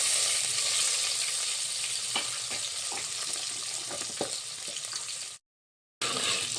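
Half a chopped onion sizzles in oil with mustard seeds and curry leaves in a pan, a steady bright frying hiss with scattered pops and soft stirring taps, then a brief dropout near the end and no talking.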